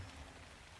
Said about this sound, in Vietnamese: Trời ơi, giờ này còn trời mưa nữa.